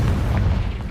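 Confringo blasting spell from Hogwarts Legacy detonating as a loud, deep boom that fills the short moment and rumbles on without a break.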